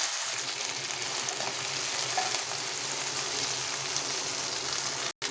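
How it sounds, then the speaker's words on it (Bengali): Ginger, chili and tomato frying lightly in a small amount of hot oil, giving a steady, close hiss and sizzle that cuts off briefly near the end. "তেল গরম হয়ে যাচ্ছে, আমি আদা লঙ্কা টমেটোটা হালকা ভেজে নিই।"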